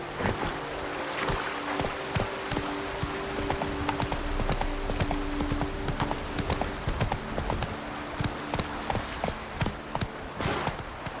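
Roach, a horse in The Witcher 3, gallops with a steady, rapid clip-clop of hooves throughout, close and fairly loud over a low game ambience, with a brief whinny-like sound mixed in.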